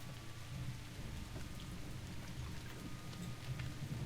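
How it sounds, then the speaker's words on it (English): Steady rain from World of Warcraft hisses continuously, a dense close wash of falling water with soft low rumbling underneath and no other sounds standing out. "the rain sound effect is beautiful"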